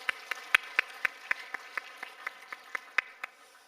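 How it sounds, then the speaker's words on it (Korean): A church congregation claps during a Wednesday evening worship service held as a men's fellowship dedication service. The claps come as a steady, evenly spaced run of distinct strikes, fairly faint and distant, with no talking over them. "우리 함께 박수로 다시 한번 격려해 주셨으면 좋겠습니다."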